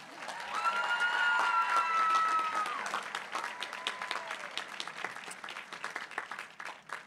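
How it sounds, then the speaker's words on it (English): Applause from a large audience at a Class of 2023 high school commencement ceremony, with a swelling wash of clapping and a few whoops and cheers early on, thinning into scattered claps toward the end. "Let's give her one more round of applause."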